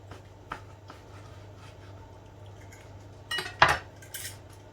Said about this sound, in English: Let's cut through this.